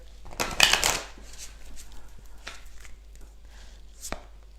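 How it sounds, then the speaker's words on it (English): Tarot cards are shuffled by hand during a live card reading: a loud, close riffling burst at the start, then softer scattered flicks and one sharp snap near the end. "So you guys see me shuffling these cards."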